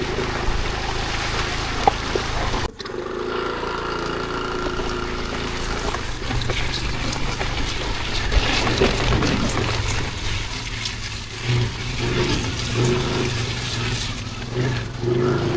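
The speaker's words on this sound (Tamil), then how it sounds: "இதால தண்ணி ஓடுற ஓடை சரியா" Storm floodwater rushing through a full stream in Mannar, a steady broad wash of flowing water mixed with engine-like rumble, continuous and fairly loud throughout with a brief dip near the start.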